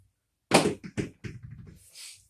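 A pair of dice whip-tossed low onto a craps table: a sharp first impact, then a few quick clattering knocks as they slide and settle, close and alone.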